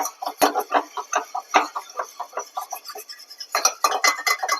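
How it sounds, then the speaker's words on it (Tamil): A utensil beats curd in a bowl, making a quick rhythmic series of close clicks and taps with a few short pauses, and no one speaks. "தயிர் வந்துட்டு பீட் பண்ணிக்கலாம்"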